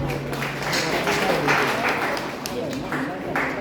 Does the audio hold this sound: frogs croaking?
no